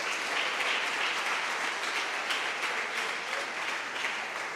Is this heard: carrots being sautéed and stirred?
no